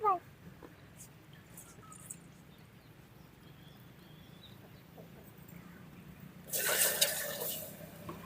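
Water is poured into a cooking pot on the stove while making sweet green gram (moong dal) vadai. A quiet room hum fills most of the stretch, then a steady, fairly close pour rushes in for about a second and a half near the end.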